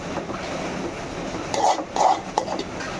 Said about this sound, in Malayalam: നമ്മളിങ്ങനെ ഇളക്കി കൊടുത്തുകൊണ്ടേ ഇരിക്കണം.